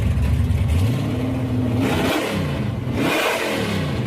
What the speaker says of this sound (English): Moonshiner cars or the prohibition cars. They have one of those revving up to hype up the crowds.